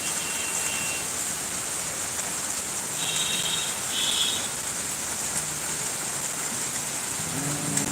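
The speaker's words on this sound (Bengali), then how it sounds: "প্রচন্ড বৃষ্টি" Heavy rain pours in an unbroken, even wash of hiss, with a slight swell midway and a low rumble toward the end.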